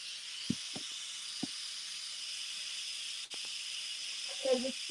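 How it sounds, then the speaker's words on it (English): Steam hisses steadily throughout while smoked pork chops with red peas and rice are cooked, a broad continuous rush with a few short knocks and brief voices or clatter near the end. "you're releasing the steam"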